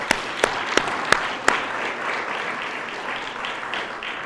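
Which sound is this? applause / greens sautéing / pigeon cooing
applause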